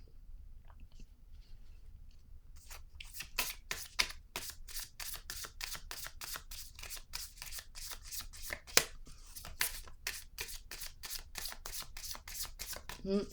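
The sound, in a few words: drawing and shuffling cards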